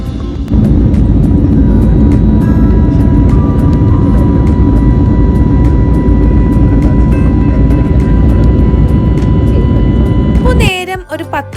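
Airliner cabin in flight after takeoff from Hyderabad bound for Trivandrum, a loud steady engine roar and broadband rumble with faint tonal whine, ending in an abrupt drop.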